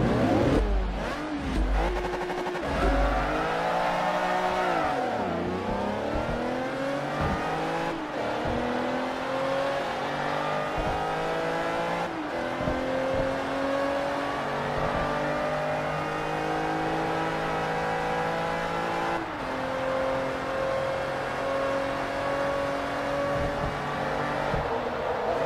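Aston Martin Vanquish racing in Forza Motorsport 3, its engine revving loud and continuous, pitch climbing and dropping through gear changes, alone with no talk.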